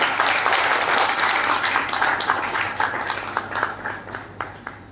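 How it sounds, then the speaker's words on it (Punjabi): Loud sustained applause from an audience at a series trailer launch in Chandigarh, dense clapping that gradually thins and fades toward the end. "ਪਰ ਜ਼ੋਰਦਾਰ ਤਾਲੀਆਂ ਮਾਰ ਕੇ ਭਾਜੀ"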